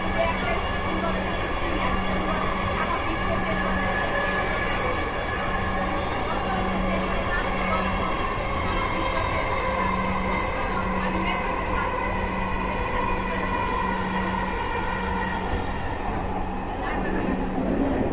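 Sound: metro rail train running

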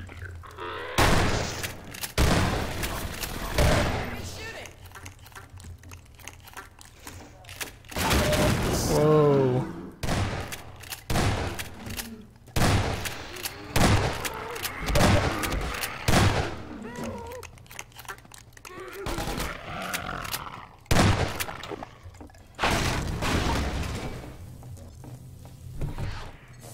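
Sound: gunfire in video game Half-Life 2 Episode 1

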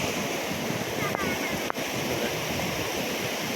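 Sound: waves washing ashore

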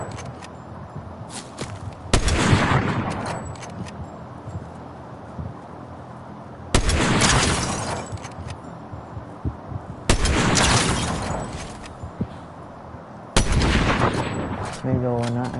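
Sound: gunfire in the Fortnite video game

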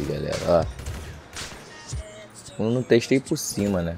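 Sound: gunshots in the video game GTA 5 Online

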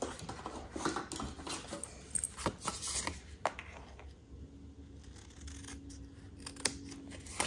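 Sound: paper snips trimming a card front

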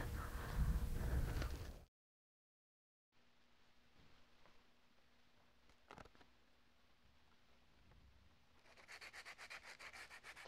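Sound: sanding primer coats on a high power rocket

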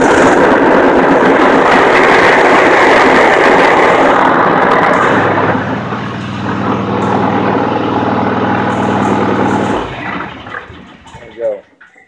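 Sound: Toro machine engine cranked up and running

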